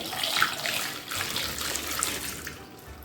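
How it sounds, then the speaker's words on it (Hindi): Room-temperature water pours steadily into a bowl of amla (Indian gooseberries), a continuous splashing rush with slight swells, close by and with no voices. "और अब इन आंवलों में नॉर्मल रूम टेम्परेचर का जो पानी है वो डालेंगे।"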